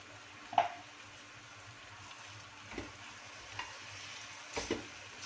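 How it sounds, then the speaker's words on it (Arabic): Tomatoes blended with a little kabsa base are stirred in a single pot, giving a few quiet scraping strokes over a soft, steady frying sizzle with no talking. "واقلب ايه شوية الحاجات الحلوة بتاعتنا دي مع بعضها."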